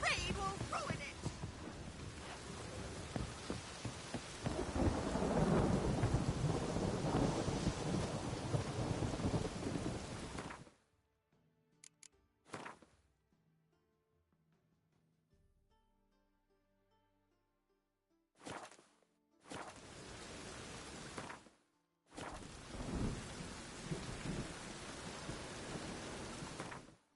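Heavy rain and thunder in the video game The Witcher 3, a loud rumbling downpour that cuts off abruptly into near silence, then returns in short bursts before resuming fully.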